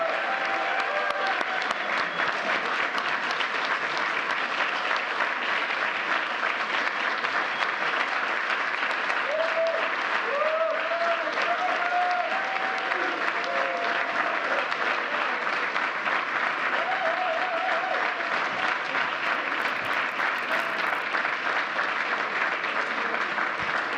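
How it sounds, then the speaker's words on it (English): A long, sustained round of applause fills the East Room at a Presidential Medal of Freedom ceremony, dense and even clapping from a large seated audience, with faint voices mixed in. "Let's give one more round of applause for this year's Presidential Freedom recipient."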